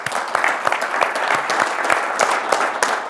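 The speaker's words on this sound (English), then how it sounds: "I would like to give them a round of applause for all their work." An audience applauds panelists at a conference session, a dense, steady wash of many hands clapping, fairly loud and close, with no talking over it.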